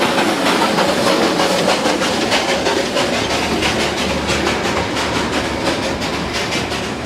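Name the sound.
Darjeeling toy train running past shops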